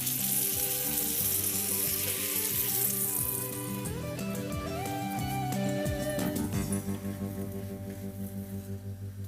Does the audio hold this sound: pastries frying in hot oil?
yes